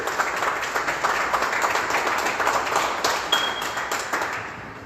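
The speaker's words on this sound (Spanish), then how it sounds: "Un fuerte aplauso para Ángel Omar May González" Audience applause at a book presentation, a steady wash of many hands clapping at moderate volume throughout, with no talk over it.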